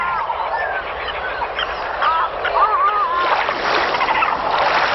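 A flock of migratory birds in Bihar calls over water, with many overlapping honking and chirping cries, soft splashes, and the chorus growing busier and louder toward the end.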